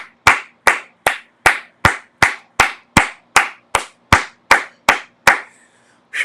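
A group claps in unison, about fourteen sharp, evenly spaced claps over six seconds, loud and close, then a brief pause before one more clap.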